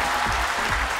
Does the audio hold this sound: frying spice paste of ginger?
no